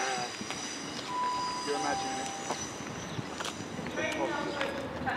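An HST high speed train running as empty stock pulls into a Great Western main line station at Newton Abbot, with a steady rumble of wheels and engine, faint tones and clicks, and people talking nearby throughout.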